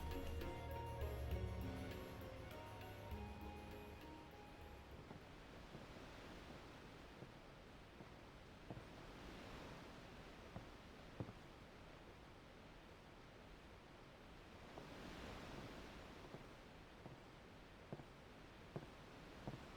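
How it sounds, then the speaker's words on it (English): Steady wind blows in the Final Fantasy X game, a broad, soft rushing that swells in gusts and fades, with a brief musical tone at the start and a few faint ticks. "Dang, it's really windy."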